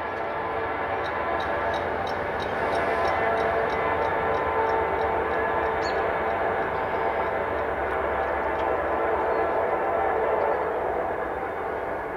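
A BNSF grain train pulled by three locomotives rushes past at speed, a loud, sustained roar of wheels and cars that stays steady and close throughout.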